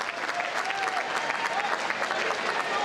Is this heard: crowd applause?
yes